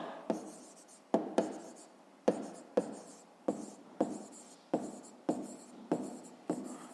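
A pen writes out a math answer on paper in steady, close scratching strokes, each starting with a sharp tap and trailing off, repeating about every half second with no talk.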